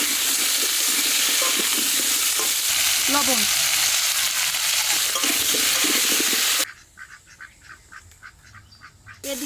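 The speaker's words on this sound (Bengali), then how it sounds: "এখন পটল ভাজা তেলেই আলুটা ভেজে নেব।" Potatoes frying in hot oil left over from frying pointed gourd in a pan, a loud continuous close sizzle with faint stirring that suddenly drops to a quieter crackle near the end.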